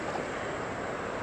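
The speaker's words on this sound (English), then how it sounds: "I hear rushing water." Rushing water from a creek or river, a steady broadband wash holding at an even level throughout, with no voices over it.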